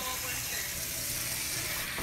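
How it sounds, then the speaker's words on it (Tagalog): Water is poured into a cooking pot for chicken tinola, giving a steady hissing, sizzling wash that runs evenly for the whole two seconds at moderate level, close by. "Lagyan natin ng tubig."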